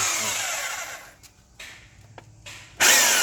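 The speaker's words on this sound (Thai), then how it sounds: "เจาะลงไปเลย เจาะลงไปครั้งเดียวนะครับ ครั้งเดียวพอไม่ต้องฟานไม่ต้องใด ๆ ทั้งสิ้น" A power drill bores a hole through a plastic water bottle cap to fit a rodent water nipple, with a loud whirring burst, short intermittent buzzes, and then a sudden loud final surge.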